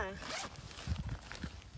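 Zipper on a Trunorth 30-liter backpack pulled open in one quick run, close and fairly soft, followed by light rustling of the bag's contents.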